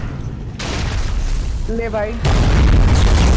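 Deep, rumbling booms roll through ARK Survival Primal Fear at night, loud and heavy in the low end, with a voice talking briefly over them.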